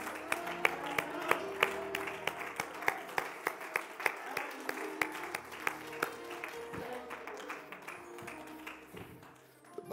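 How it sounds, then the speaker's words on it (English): A church congregation claps their hands together in praise, a steady rhythmic beat of many palms, with voices underneath. "Give the Lord a hand clap of praise."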